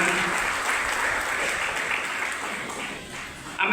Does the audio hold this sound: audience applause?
yes